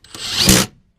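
A 12 mm socket on a ratchet works a nut on a Ford Ranger during a steering wobble repair, giving one short, loud, close burst of ratcheting with no talk.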